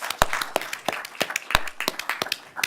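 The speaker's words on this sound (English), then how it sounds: "I think we should have a round of applause for them" Audience applause for the organizers at the end of a day at an intellectual property conference panel: a short burst of scattered, sharp hand claps, fairly close and uneven in rhythm, with no talk.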